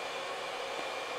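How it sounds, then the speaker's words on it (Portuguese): A hair dryer blows steadily on short styled hair worked with wax pomade, a constant close whooshing hum with no breaks or talking. "À medida que o secador bate, né, na cera, né, na pomada,"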